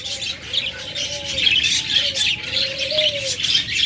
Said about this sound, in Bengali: এখানে দেখুন চমৎকার এক জোড়া বাজরিগা রয়েছে